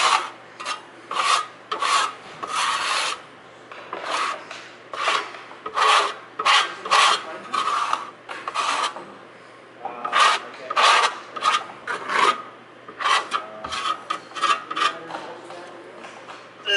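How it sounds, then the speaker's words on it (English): A trowel spreads adhesive for boat carpeting, producing repeated close, rasping scrape strokes in an uneven rhythm, each a second or so long, with brief pauses between them. "Trowel it out."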